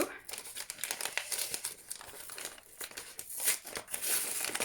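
Packaging on a monthly witch subscription box, sealed with tough stickers, crinkles and tears as it is pulled open, a steady close rustle with brief louder rips, with a voice heard faintly beneath.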